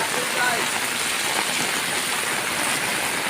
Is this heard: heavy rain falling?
yes